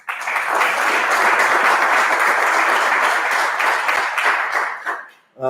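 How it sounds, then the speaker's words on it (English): An audience at a food drive launch event bursts into sustained clapping for about five seconds, a dense wash of hands that fades out near the end. "How about another round of applause?"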